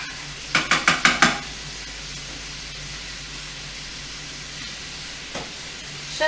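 Rice stirred in a pot with a utensil: about six quick clinks and scrapes in a burst near the start, then quiet kitchen background with one faint knock later.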